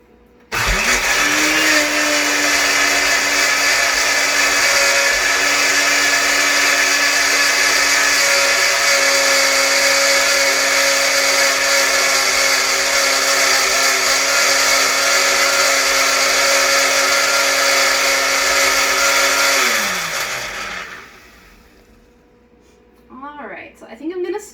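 A kitchen blender blending red cabbage whirs up and runs at a loud, steady high-pitched roar for about twenty seconds, with its motor running hot, then winds down and stops, leaving a voice speaking afterward.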